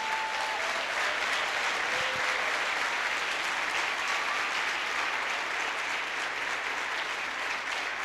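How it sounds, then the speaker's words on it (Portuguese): A worship congregation gives sustained, dense applause to the Lord during a Portuguese-language church service, an unbroken wash of clapping at steady volume throughout, with faint whistles or cheers rising briefly above it. "Posso ouvir um aplauso ao Senhor?"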